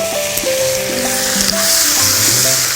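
Diluted seasoning sauce sizzling in a hot pan with stir-fried beef brisket and bracken, a loud continuous hiss and crackle with faint stirring clinks, no one speaking.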